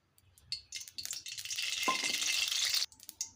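Oil goes into a hot kadai for frying pumpkin flower fritters and sizzles. Soft clinks lead into a loud, sustained crackle of about a second and a half that cuts off sharply, with no voices.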